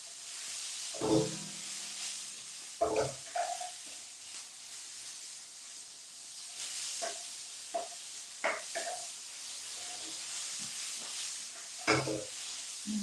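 Vegetables fry in a pan for a vegetarian Chinese meal. A steady, soft sizzle runs underneath, broken by several sharp bursts of stirring and scraping.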